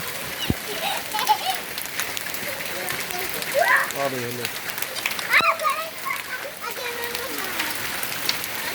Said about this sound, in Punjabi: ਧਰਤੀ ਚਿੱਟੀ ਹੋ ਗਈ ਨਿਹਰੇ ਗੜੇ ਹੀ ਡਿੱਗਦੇ ਆ